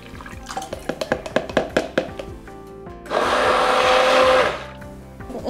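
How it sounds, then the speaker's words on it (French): An immersion blender mixes lye into a blend of oils for mint and patchouli soap, roaring steadily for about a second and a half after a run of knocking and clattering sounds. "Je vais donc verser la soude dans le mélange des huiles et mixer avec le mixeur plongeant."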